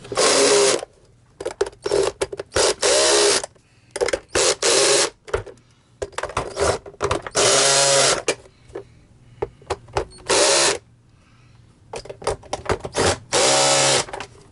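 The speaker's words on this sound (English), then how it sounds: "now you got to retorque them on this particular Miele" A power screwdriver retorques screws on a Miele C1 vacuum cleaner, giving repeated short loud whirring bursts with quiet gaps and clicks between them.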